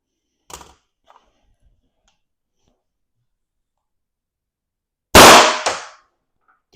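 A single loud, sharp report from a firearm shooting an 8.8 gram Gladiator less-lethal round, heard close and alone after near silence and a couple of faint clicks, with a brief decaying tail.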